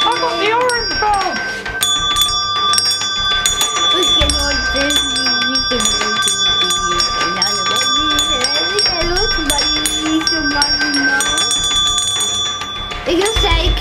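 Small hand bells are shaken continuously at close range, a dense bright jingling throughout, with children and adults talking and singing over it.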